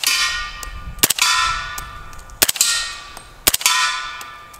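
Rounds from a rifle fitted with a Liberty Cans Leonidas Gen2 integral 300 Blackout silencer striking a steel target, three sharp, loud metallic clangs spaced about a second apart, each ringing out bright and fading before the next.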